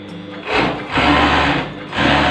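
Beautifully 757 overlock sewing machine stitching a narrow hem, running in three loud bursts of steady mechanical whirring with short pauses between, close and alone with no talk.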